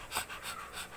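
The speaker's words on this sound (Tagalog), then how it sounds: "Kawawa ang Milo namin, hingal ni hingal." A dog pants heavily and quickly, close up, a short burst of rapid breathy huffs with no talk over it.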